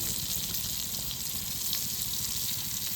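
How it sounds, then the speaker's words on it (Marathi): Food fries in a pan with low oil at a friends' party, giving a continuous close hiss and crackle that stays even and steady throughout, with no voices. "इकडे कौल फ्राय चालू आहे"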